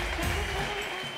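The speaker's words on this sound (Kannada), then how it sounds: "ಪಂಚಾಕ್ಷರಿಯವರಿಗೆ ಇನ್ನಷ್ಟು ಚಪ್ಪಾಳೆಗಳು ಬರಲಿ" Audience applause at an award ceremony honouring an outstanding Kannadiga, a steady wash of clapping heard briefly with a voice over it.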